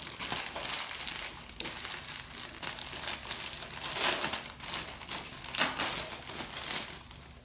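Brown paper being handled and shifted into place for a dough bowl, giving a continuous close crinkling and rustling with brief louder crackles, no voices.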